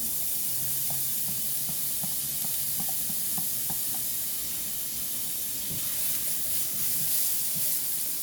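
Garlic fries in a pan of hot oil for a broccoli and mushroom dish, giving a soft, even hiss that runs without pause, with a few faint clicks near the start and no voices.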